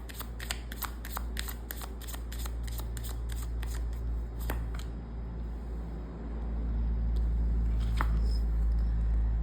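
Oracle cards for a tarot reading shuffled in a rapid burst of crisp riffling clicks, then a few scattered snaps over a quiet low hum, close and without talk.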